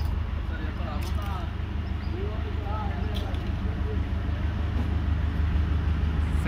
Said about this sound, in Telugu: మనకైతే ట్రైన్ అయితే వస్తూ ఉన్నది ప్లాట్ఫామ్ మీదకి